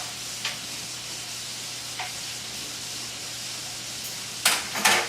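Meatballs cooking in a pan on a burner set too high make a steady close sizzle with a low hum underneath, broken by a few brief bursts of louder spitting and stirring near the end, with no voices.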